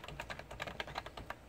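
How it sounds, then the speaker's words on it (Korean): Fast, light keystrokes on a computer keyboard as a web address is typed, followed by the Enter key, heard close and alone. "가나출판사.kr 치고 엔터를 치면"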